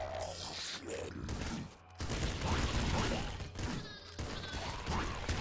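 Golden yo-yo gun fire in the video game Nuclear Throne comes as dense, rapid bursts of clattering, crunchy game effects, loud and busy throughout, with brief pauses between volleys.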